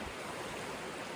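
A river flowing outdoors, a soft, steady broadband rush of moving water with no voices or other sounds.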